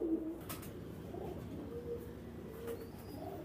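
Pigeons cooing in a loft, a pair of birds among them, their soft low coos repeating in rolling bursts at close range over a steady background hum, with no talk.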